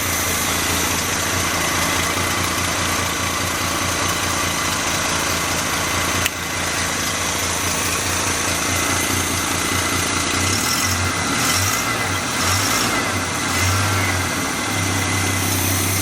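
A budget turbocharged 250 engine runs at a steady idle, a loud continuous mechanical hum and rattle with no revving, close up and uninterrupted.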